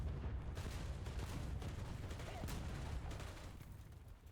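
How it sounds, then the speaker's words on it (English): A heavy cruise missile explosion in the combat video game War Thunder rolls out as a loud, sustained rumbling blast with crackling bursts, slowly fading toward the end. "I assume I'm about to get hit by a fucking cruise missile"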